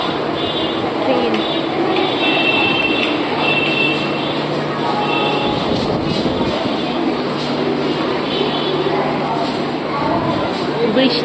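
Trains at Howrah railway station on a lightly rainy day, a continuous low rumble with a sustained drone and busy crowd noise, with voices talking over it for the whole stretch.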